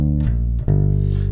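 Three notes of a minor triad built on the second degree are picked on bass guitar, close and full, forming a brief ringing arpeggio.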